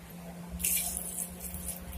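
Water running from a tap or poured into a vessel of 250 grams of dried chickpeas soaking for Punjabi chole, a close splashing rush that starts partway through and continues steadily over a low background hum.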